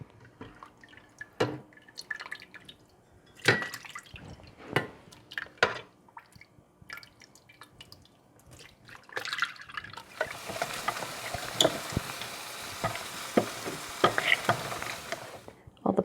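Roasted tomatoes cranked through a hand food mill into a bowl, giving wet squishing, dripping and scraping sounds in irregular bursts, with a steady hiss of pressing pulp in the latter part.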